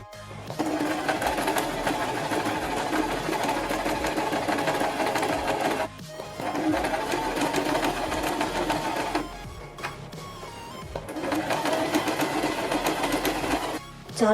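Sewing machine stitching a folded cloth frill: steady, rapid mechanical whirring in three long runs separated by brief pauses, close and fairly loud, with no talk.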